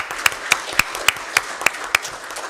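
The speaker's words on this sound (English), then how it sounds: "I'd ask you to please join me in a round of applause" Applause at a fire service accreditation awards ceremony: a close, steady run of about nine evenly spaced claps, crisp and distinct over a faint background murmur.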